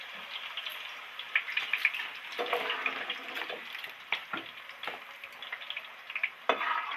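Capsicum deep frying in hot oil in a home kitchen while making egg chilli gives a steady, close hiss and sizzle, broken by occasional clicks and scrapes of stirring; no one speaks.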